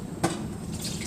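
Plain white pickling vinegar, a quarter cup, is poured into a pan, a short splashing gush followed by a soft liquid trickle, close and fairly quiet with no talk.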